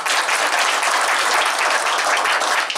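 An audience at a billiards championship for university lecturers in Ukraine applauds: dense, steady clapping from a crowd, close and even throughout, with no speech over it.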